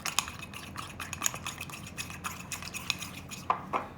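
A whisk beats egg in a bowl for cake batter, making quick, close, rhythmic clinks and scrapes against the sides that continue steadily at moderate volume.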